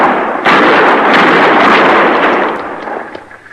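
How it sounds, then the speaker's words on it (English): A burst of rifle shots from a radio drama Western sound effect, a loud booming crack followed by rolling, echoing gunfire that slowly fades. "Use your rifle, Chester."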